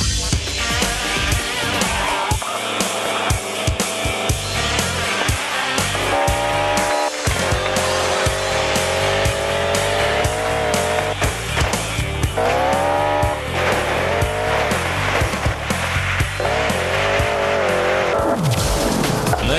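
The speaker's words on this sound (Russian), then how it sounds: "Машины здесь скрипят, визжат и пыхтят" Rally cars in the video game GM Rally, roaring engines with repeated squealing tire skids that rise and bend in pitch, loud and continuous throughout.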